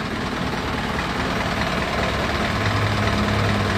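An overhauled Isuzu 4HK1 diesel engine in a wing van truck idles loudly up close, a steady low rumble with an even mechanical chatter and no talking.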